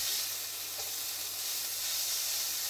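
Mince frying in a pan with red onion, a steady bright sizzle and hiss throughout, close and even, with no talking.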